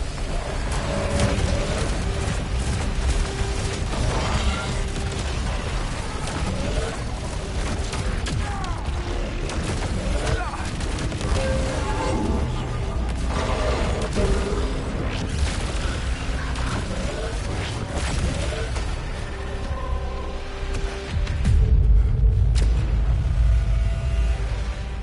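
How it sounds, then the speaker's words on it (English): Big explosions in a video game boom out loudly in a dense, continuous barrage of blasts and rumbling thuds, with a heavier burst near the end, and no clear talk over them. "Big explosions."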